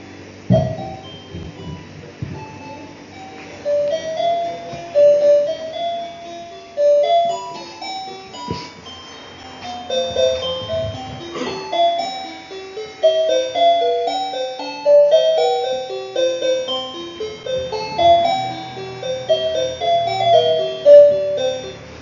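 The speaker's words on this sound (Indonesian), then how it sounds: "Kalau dipencet suaranya keluar suara tadi, itu irama lagu Malam Sunyi Senyap judulnya." A children's toy button plays the Silent Night melody as a tinny electronic tune of thin beeping notes, loud and close, running continuously with no talk.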